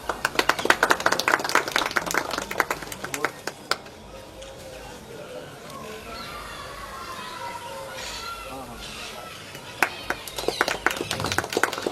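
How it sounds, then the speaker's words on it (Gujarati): Bursts of audience clapping at a village public library festival in Gujarat, loud scattered claps at the start and end with a quieter stretch of murmuring crowd and voices between. "મિત્રો તાળીઓનો ધોધ વહાવતા રહેજો"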